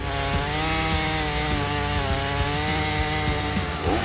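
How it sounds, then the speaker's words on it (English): A Jonsered CS2245 chainsaw cuts through wood with a steady, loud, close engine whine that stays constant under load throughout. "For Swedish lumberjacks, Jonsered chainsaws have been proven companions for over 6 decades."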